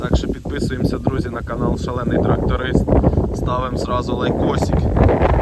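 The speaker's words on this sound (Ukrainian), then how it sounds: "Вибачаюся за вітер" Strong wind buffets the microphone in an open wheat field, a loud continuous low rumble under someone speaking throughout.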